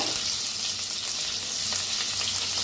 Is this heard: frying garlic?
yes